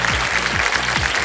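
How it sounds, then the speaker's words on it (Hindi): Studio audience applause on the KBC quiz show set, a steady wash of clapping that carries through the whole short stretch without a break. "देखो ताली भी आ गई"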